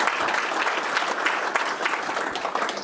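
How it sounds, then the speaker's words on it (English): Steady audience applause at a mining alliance meeting, a dense continuous patter of many hands clapping, moderately loud and sustained throughout with no voices over it. "So I just want to give him a quick round of applause one more time."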